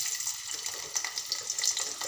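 Chopped onion dropped into hot oil in a heated pan sizzles with a bright, steady crackle and small spattering pops, close and alone.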